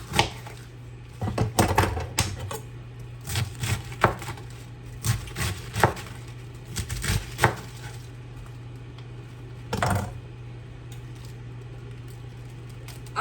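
A knife chops fresh garden cabbage in irregular bursts of sharp, close thuds on a board, with pauses between runs of cuts over a low steady hum.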